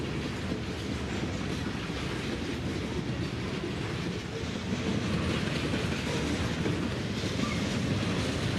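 A freight train rolls steadily along a railway in central Georgia, a loud, continuous rumble with faint clickety-clack of the wheels, heard close and without talk.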